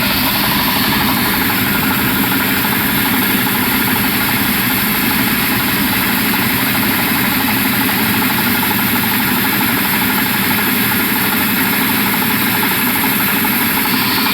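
A grain loader machine loads soybeans into a 10 by 6.5 foot farm trolley, running on low voltage, with a loud, continuous engine-like drone and rumble that holds steady throughout with no talking.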